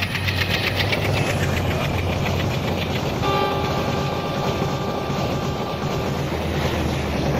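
A simulated Howrah–New Delhi Rajdhani Express train races along at high speed, a steady loud rumble of wheels and carriages with faint rhythmic clatter and a thin whine that sets in partway through, no talking.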